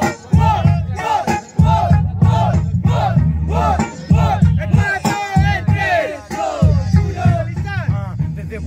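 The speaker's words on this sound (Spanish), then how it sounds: "¡Aplauso!" Crowd at a freestyle rap battle final erupting together, loud rhythmic chanting and shouting from many voices in repeated bursts with whoops, close and energetic.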